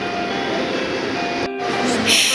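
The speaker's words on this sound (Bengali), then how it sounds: "আজ মাহির প্রথম ট্রেন যাত্রা নিয়ে এই ব্লগটি তৈরি করা হয়েছে" Steady rumbling train noise heard during a ride, with a constant mechanical hum, a brief dropout midway, then brighter hissing toward the end; no voices.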